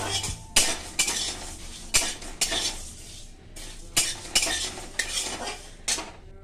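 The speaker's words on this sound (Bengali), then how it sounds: "এবার আমি বসিয়ে দিলাম এটা সেদ্ধতে" Metal pot and utensils clanking on a stove as a pot is set to boil for a green banana kofta curry, with repeated sharp clinks and scrapes over a faint background sizzle.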